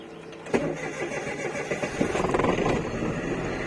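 A Chery QQ car engine cranks and fires into life, starting with a sharp catch and then settling into a rough, uneven running rumble close by, with no talking.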